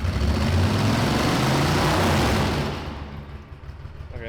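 A 37-year-old Suzuki Intruder 1400 motorcycle idles with a low, steady rumble that fills the first half, then drops to a quieter, lighter idle near the end, with no talk over it.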